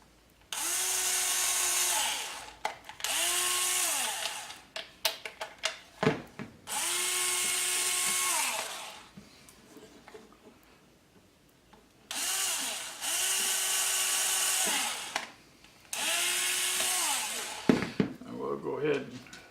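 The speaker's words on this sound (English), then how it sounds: "And we're going to drill the pilot hole." A power drill with a 1/16 inch bit bores pilot holes in a mini quadcopter frame, whining in several sustained bursts of two or three seconds, with quiet pauses and clicks between them and talk in places.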